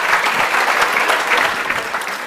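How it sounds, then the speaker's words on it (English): Audience applause at a pitch competition, a steady dense wash of many hands clapping throughout, fairly loud and close, with no talk over it. "give him a round of applause"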